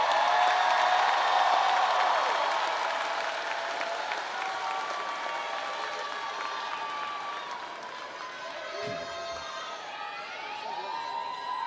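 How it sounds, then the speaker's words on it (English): Audience applause mixed with cheering and whoops at a high school graduation ceremony in a stadium, loud and sustained from a large crowd, slowly easing in the second half. "Give them a round of applause."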